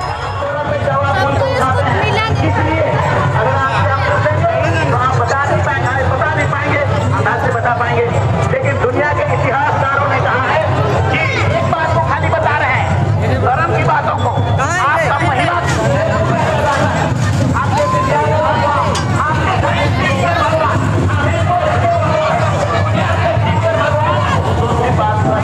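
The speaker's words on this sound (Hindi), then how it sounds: "चलिए आप लोग को अब मेला दिखाते हैं बाहर किस तरह से भीड़ है" Dense babble of a large crowd at the Kartik fair in Chatti, many voices talking at once close by and at a distance, a loud continuous hubbub with occasional louder calls standing out.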